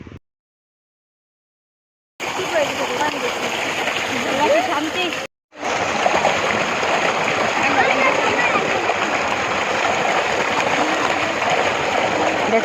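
Strong, continuous gush of water splashing down from a motor pump outlet, starting abruptly after a silent gap and briefly cutting out before resuming loudly.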